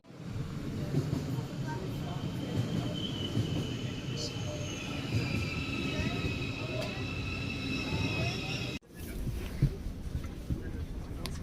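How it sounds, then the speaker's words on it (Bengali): A passenger train pulls away from the station, heard from inside the carriage: a steady rolling rumble with rising whining tones as it gathers speed, with people talking over it and a brief jolt near the end. "আমরা ট্রেনে বসে পড়েছি এবং ট্রেন ছেড়েও দিয়েছে"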